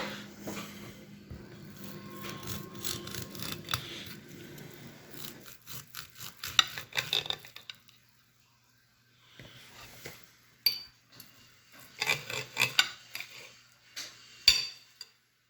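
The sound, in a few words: knife cutting open a fried steak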